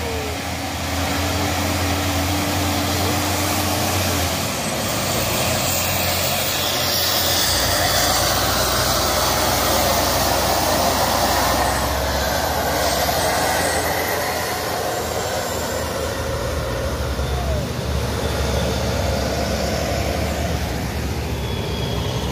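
A Fuso tanker truck strains uphill with its engine, and a trailer truck passes nearby, a loud continuous diesel roar and rumble that holds steady for the whole stretch with no pauses.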